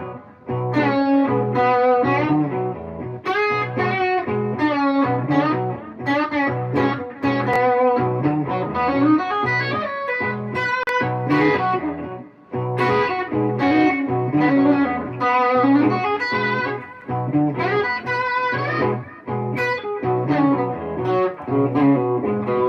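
Electric lead guitar runs melodic major pentatonic lines over a full backing groove, steady and loud throughout with a slightly distorted, effected tone and no talking.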